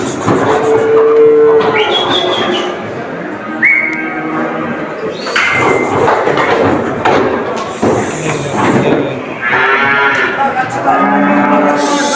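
Cattle moo repeatedly amid a noisy livestock crowd at a live animal market in Çubuk, with thuds, whistles and background commotion throughout.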